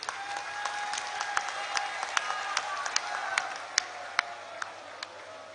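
Scattered, sparse claps ring out in a hall during a political rally in Punjab, with distinct individual hand claps over a quiet hum rather than full applause.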